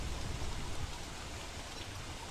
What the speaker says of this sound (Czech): Naši to pršení už by ale mohlo přestat jako malinko.